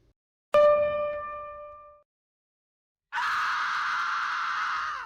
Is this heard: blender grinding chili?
no